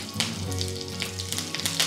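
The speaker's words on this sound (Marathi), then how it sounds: "तव्यामध्ये तेल गरम झालेलं आहे. यामध्ये सगळ्यात आधी जाईल मोहरी." Mustard seeds, cumin and curry leaves crackle in hot oil in a pan while tempering for batata vada, a loud close sizzle with sharp popping spits over a couple of seconds, no voices.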